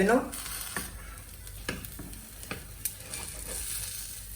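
A besan cheela chickpea pancake cooks in a pan, a soft steady sizzle with scattered light taps and pops and a brief clatter at the start, faint and close.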